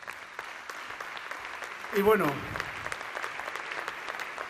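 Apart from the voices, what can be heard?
applause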